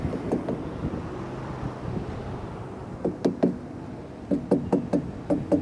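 Someone knocks on an inflated truck tyre to check its air pressure, producing sharp, solid taps: a few scattered knocks early, then quick clusters of raps, over light outdoor wind noise.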